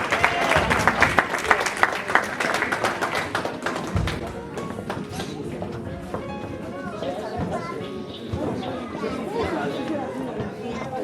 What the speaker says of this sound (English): Can we please put our hands together?